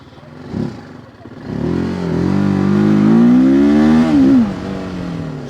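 A TVS Apache RTR 310 motorcycle engine on the move, revving loudly and climbing steadily in pitch before a brief dip and settling, heard up close.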